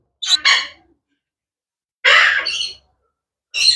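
Pet conure parrots, including a blue yellow-sided conure, give harsh squawking calls in three loud, close bursts separated by pauses.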